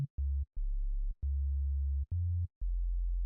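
A low, pure sine-wave synth bass tone plays in a series of sustained notes at shifting pitches, each starting with a soft click, clean and unsaturated.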